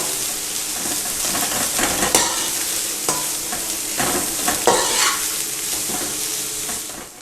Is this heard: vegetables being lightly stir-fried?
yes